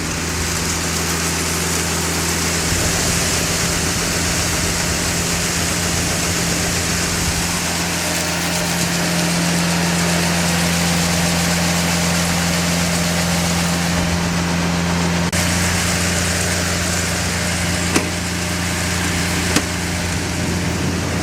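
A farm machine's engine idles up to a steady, loud, continuous drone with a low hum and slight vibration, holding evenly throughout with a brief pitch shift partway, no speech.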